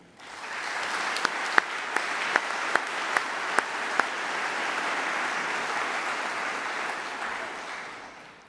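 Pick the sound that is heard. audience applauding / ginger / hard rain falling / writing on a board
audience applauding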